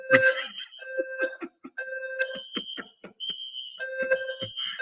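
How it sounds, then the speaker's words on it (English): A fire alarm sounds in repeated electronic beeping tones with short gaps, fairly clear against a quiet background. "It ain't the devil. It's the fire alarm."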